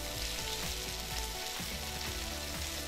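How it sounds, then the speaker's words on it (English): Beef strips sear on a hot griddle beside vegetables for a stir fry, a steady, close sizzle running the whole time with a few scraping clicks and a brief dip in the hiss midway. "But we'll get a good little sear going, and from there we'll pull them"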